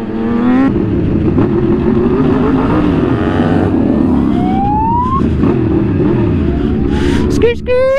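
Street motorcycles rev and roar as riders pull wheelies at a street-riding meet, a loud, close engine drone with rising whines of bikes accelerating past and a siren-like tone late on.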